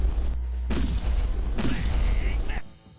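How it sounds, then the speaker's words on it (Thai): Loud explosions in the mobile game Team Fortress 2 Mobile: two heavy booming blasts with long rumbling tails, close and dominant, followed by a higher whooshing effect before the sound drops away. "โอ้โห เสียงระเบิดแบบ ลั่นทุ่งเ้ยนะฮะ"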